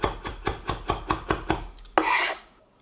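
Knife chopping fresh coriander leaves finely on a board for lime butter, a steady run of about eight close, crisp knife strikes followed by a brief scraping sweep.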